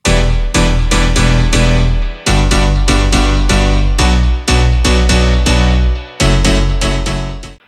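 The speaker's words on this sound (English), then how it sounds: "But they make a really big difference when you play them together with the piano." Filtered piano house basses played together with the piano, forming a loud, full stack of rhythmic chord stabs over deep bass notes in repeating phrases with brief breaks.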